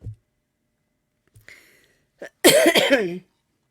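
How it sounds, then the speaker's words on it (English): After near silence and a few faint stirrings, one loud, harsh cough bursts out close by. "this cough, I tell you what"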